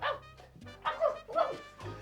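A dog barks a few times in short, mid-loud bursts with brief pauses between them, with no talking over it.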